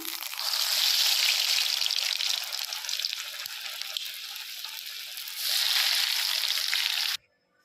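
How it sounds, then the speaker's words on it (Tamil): Bread rolls deep-frying in hot oil give a steady, loud bubbling sizzle that swells again near the end and then cuts off abruptly. "இப்போ நம்ம செஞ்சு வச்சுருக்கிற ரோல் எல்லாத்தையும் இதில் போட்டு பொறிச்சு எடுக்கலாம்"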